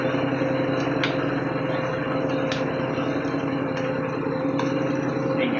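A tractor engine runs at a steady, droning low rumble with no change in pace, joined by a few faint ticks and clicks.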